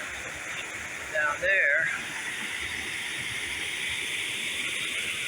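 A waterfall in a tropical garden in Sogod, Cebu, gives a steady rushing hiss throughout, with a brief voice speaking over it near the start.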